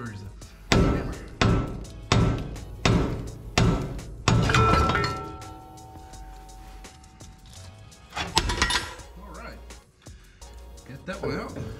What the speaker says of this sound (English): Use rotor as a hammer.